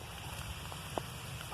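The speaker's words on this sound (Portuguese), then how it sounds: "tá apagando, começou a chover" Rain falls steadily on a fishing campsite beside a campfire, a faint, even hiss with a few soft drops standing out, and no voices.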